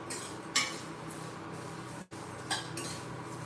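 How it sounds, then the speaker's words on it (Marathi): Vermicelli is stirred and sautéed in a pan for kheer, cooking until reddish. A soft, steady scraping hiss runs throughout, with a couple of brighter metallic spoon strokes against the pan and a brief dropout midway. "तर आपण आता ह्या लालसर होईपर्यंत परतून घेणार आहे"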